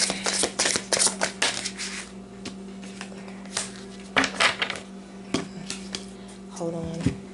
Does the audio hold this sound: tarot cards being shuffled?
yes